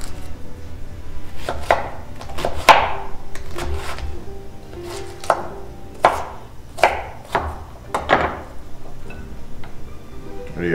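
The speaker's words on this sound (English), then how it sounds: "We are going to cut these into long thin strips." A knife chops through fresh salad vegetables on a cutting board, making a series of sharp, irregular cuts spaced about a second apart. The strokes are close and clear, with no talking.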